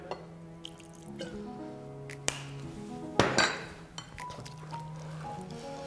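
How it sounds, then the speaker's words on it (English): A spoon stirs a zucchini, turmeric and chickpea salad in a bowl, making light scattered clinks and scrapes with one louder clatter midway. The sound is close and quiet, with no talking. "We'll just give this a stir."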